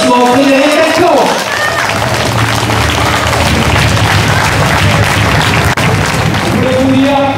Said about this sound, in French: une fois sous vos applaudissements, Frédéric Delplanche